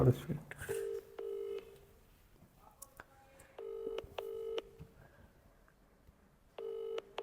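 Touch-tone phone dialing: a run of short DTMF beeps in quick bursts, with pauses between groups, fairly close and moderate in level, and faint background murmur in between.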